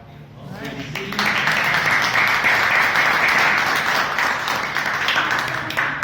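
An audience at a Toastmasters club meeting claps together, a dense, sustained round of applause that swells after a brief murmur and holds steady to the end.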